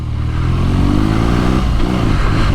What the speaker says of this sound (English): blipping the throttle on an air-cooled BMW Boxer engine and just feeling it kick between your feet